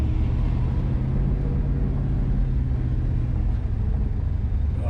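A 1968 GMC pickup crawling in granny low of its SM420 four-speed, a steady deep engine and drivetrain rumble heard from inside the cab, continuous and fairly loud with no talk.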